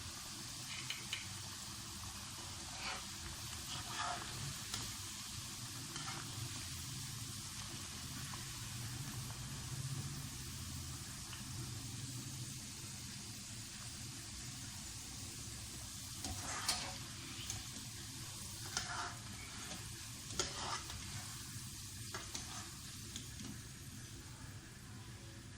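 Potatoes frying in hot oil give a steady, moderately loud sizzle and hiss, with occasional crackling bursts and faint stirring scrapes over a low cooking hum, and no talk.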